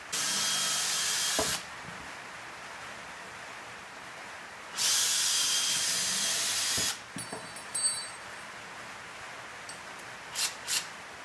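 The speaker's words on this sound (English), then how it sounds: "take it off and drill those four holes" A power drill bores holes through an old tyre being made into a stool, two loud bursts of whirring a few seconds apart, followed by short clattering knocks and scrapes.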